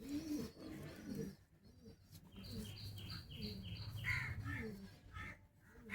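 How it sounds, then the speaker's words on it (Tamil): High-flyer pigeons coo in a short stretch, with soft bird calls and a few brief overlapping chirps at moderate distance against a faint outdoor background. "நல்ல புறாவும் நல்லா பறக்குது."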